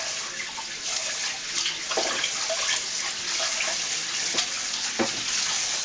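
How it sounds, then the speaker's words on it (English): Tap water runs steadily into a kitchen sink while a colander and bowl are rinsed of butter, a continuous close splashing hiss with small clatters and no talk. "I'm going to rinse this bowl here out"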